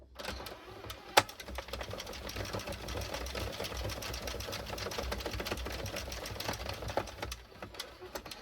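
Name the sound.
hand-cranked knitting machine carriage going around the needles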